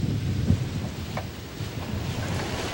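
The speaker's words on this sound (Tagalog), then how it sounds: "Mas lalong lumakas pa ang ihip ng hangin at ulan nang sumapit na ang dilim sa lungsod ng Baguio." Typhoon Lando drives strong wind and rain through Baguio City after dark. A steady, roaring rush of gusts and downpour carries low rumbles and a few brief knocks, with no voices.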